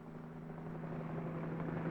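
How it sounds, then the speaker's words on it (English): A police helicopter flies over a city, its low steady rotor drone and engine hum heard at a distance, fairly faint and unbroken, on an old 1950s film soundtrack. "Whirling over the city, a police helicopter reports traffic movement to the operations center."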